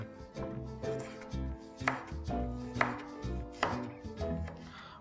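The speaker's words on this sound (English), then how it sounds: "let's quickly slice in some ginger and garlic." Knife slicing ginger and garlic on a board, a string of distinct chopping strokes in an irregular rhythm, close and clear with nothing else heard.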